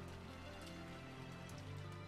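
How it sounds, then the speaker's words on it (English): Steady rain falls in a scene from the visual novel game Rose Guns Days, a soft continuous patter heard alone at low level, with a faint tonal background underneath throughout. "It's raining outside now."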